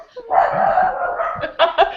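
Dogs barking close by indoors, one drawn-out yelping bark followed by a couple of quick short barks, with a voice faintly underneath.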